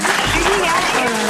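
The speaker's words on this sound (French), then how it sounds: "Il faut pas parler sur les applaudissements" Studio audience applause on a French TV comedy show, a loud dense burst of clapping with a voice briefly over it.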